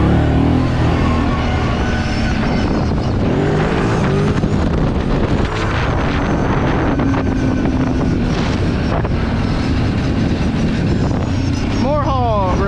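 Kawasaki Brute Force 750 ATV in high gear over rough, rutted terrain, its engine a steady loud drone under heavy wind buffeting on the microphone throughout, with a rising whine near the end.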